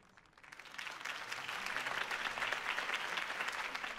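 Crowd applause after a campaign speech in the Batman Telltale game swells from quiet to a steady, dense clapping of many hands that holds to the end, fairly soft and heard alone.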